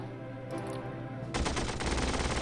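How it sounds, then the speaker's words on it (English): Machine gun ambush fire in the Battle Academy 2 video game, a sudden loud burst of rapid automatic shots cutting in over a low background ambience, with no talking. "Machine gun ambush. That's going to suppress that guy."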